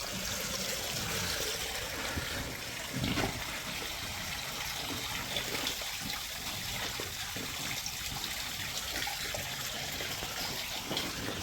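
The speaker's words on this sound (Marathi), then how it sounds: "कधी कधी आम्ही असं पाणी सोडतो हे बघा" Water is let out for cows to drink, a continuous trickling and gushing flow with small splashes, steady and fairly close, with no speech.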